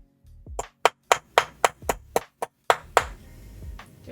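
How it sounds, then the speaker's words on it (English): Soft, close blows of a rubber mallet straightening a wonky metal piece on a desk, roughly ten sharp taps at an irregular, slightly slowing pace, with a quiet room hiss between hits and no voices. "I'm going to use my mallet, my rubber mallet. I'm just going to give it a soft hammer."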